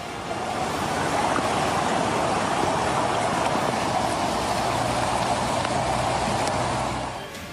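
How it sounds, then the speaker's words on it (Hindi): Torrential downpour in the Balh valley of Himachal hills flooding an old national highway, a loud steady roar of rain and rushing water that stays constant throughout before dropping off at the end. "बल्ह घाटी के लुणापानी में मूसलाधार बारिश ने पुराने नेशनल हाईवे पर बुरी तरह से पानी ला दिया।"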